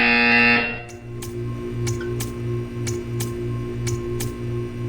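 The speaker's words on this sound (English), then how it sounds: "You will hear a buzzer." A repeated electronic buzzer in the video game Portal 2 beeps at a steady rhythm, sharp short pulses over a constant low hum, following a brief loud tone at the start.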